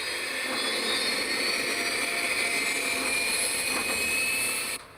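Jet aircraft engine roaring in the video game Sniper Elite 4, a steady loud drone that holds for nearly five seconds before dropping off abruptly at the end.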